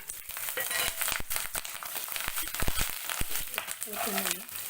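Curry leaves and green chillies dropped into hot oil with asafoetida while making a Gujarati carrot sambharo, giving a crackling, popping sizzle with spatter bursts, and a voice talking over the cooking near the end.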